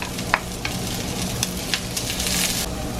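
Onion sautés with carrots in a pan, a continuous close sizzle with a few brief spatula taps and scrapes and no voices.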